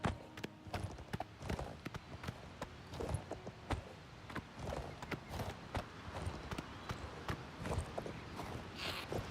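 Horse hooves clip-clopping at a steady riding pace in a fantasy video game around Cheydinhal, a continuous rhythmic run of close, crisp hoofbeats with no talking over them.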